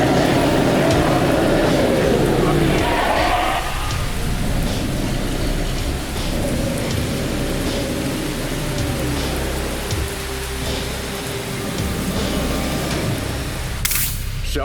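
Heavy anime rain shower pours steadily with rumbling thunder, loud and continuous, the rolling low rumble easing after the first few seconds and a sharp crack near the end.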